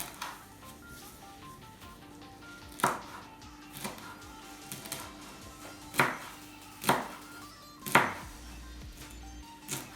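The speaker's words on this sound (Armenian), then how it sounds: "և կտրատում ենք թարխունը։" A knife chops fresh tarragon on a cutting board, with about seven distinct, irregularly spaced thunks against a quiet kitchen background and no talking.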